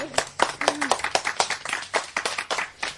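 A quick run of hand claps at a steady, brisk rhythm, close and fairly loud, with a short voiced sound mixed in near the start.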